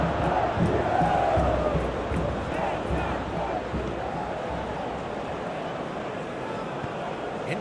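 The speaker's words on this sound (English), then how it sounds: "Well, the crowd clearly like what they just saw." A stadium crowd in the football video game PES 21 cheers after a crunching tackle, a broad roar swelling early and then easing to a steady murmur beneath a commentator's voice.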